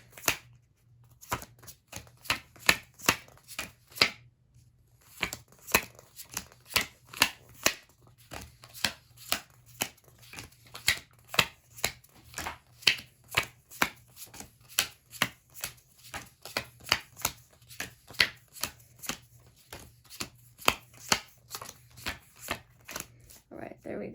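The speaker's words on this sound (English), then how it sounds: "now I'm going to put the deck into 4 piles." Playing cards are dealt from a deck into four piles, each card landing with a crisp slap in a quick, regular rhythm that continues throughout, close and fairly quiet.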